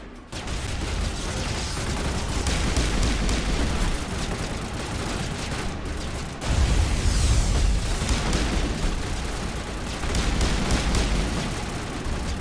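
Turrets fire and explode in the video game Mass Effect, a dense, loud barrage of gunfire and booming blasts that continues without a break, with heavier explosions surging partway through.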